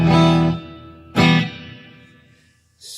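Electric guitar played through a Mooer Black Truck pedal's reverb, with two struck chords ringing out and decaying into a reverb tail, then a brief noisy burst at the end.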